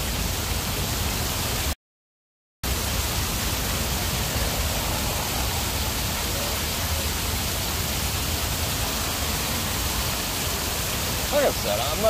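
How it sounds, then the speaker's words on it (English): Water flows steadily in Las Vegas as a dense, even hiss of broadband noise, broken by one short silent gap, with people talking faintly underneath. "Actually, this is kind of relaxing, listening to the water."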